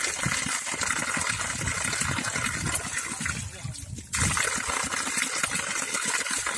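Fresh spring water flows straight out of the jungle on Mount Kuta near Mount Hagen, Papua New Guinea, a steady, close rushing and splashing stream that briefly dips before surging back.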